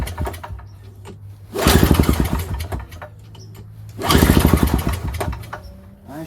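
Snowblower engine being pull-started and failing to catch, two loud sputtering bursts of cranking and coughing between quieter ticking pauses, close by with no talk.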